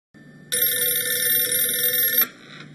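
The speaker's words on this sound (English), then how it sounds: "Is anybody going to answer that phone?" A telephone bell rings in one long, loud, continuous burst of metallic trilling, then stops abruptly with faint background noise remaining.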